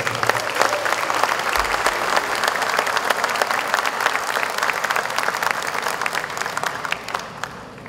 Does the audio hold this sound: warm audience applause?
yes